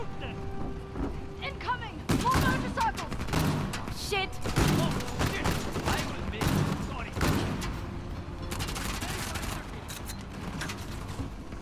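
Scattered gunfire from the Uncharted: The Lost Legacy video game finale, bursts of shots cracking repeatedly across the scene, with a person talking over the shooting.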